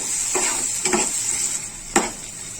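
Onions and tomatoes fry in oil in a pan with a constant soft sizzle, broken by three short scraping stirs of a spoon, the last one the sharpest.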